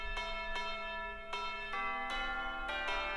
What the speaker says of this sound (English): And then we have Tubular Bells playing Jingle Bells.